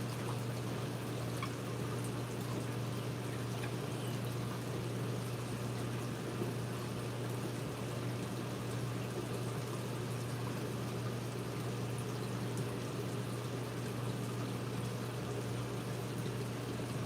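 Water poured and trickling steadily into a container to hold a blonde Nassau tang at a live aquarium fish sale, a continuous splashing wash under a constant low pump hum.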